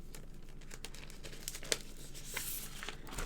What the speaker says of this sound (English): Would help if I cut my paper to size first.